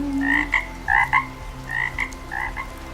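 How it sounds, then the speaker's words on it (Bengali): Frogs croak in a repeated rhythmic pattern of short, paired calls, close and clear, with brief pauses between bursts. "বৃষ্টির খুশিতে ব্যাং গান গাইছে ঘ্যাঙর ঘ্যাঙর ঘ্যাং"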